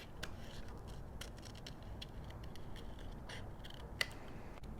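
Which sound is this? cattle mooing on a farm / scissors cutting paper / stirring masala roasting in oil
scissors cutting paper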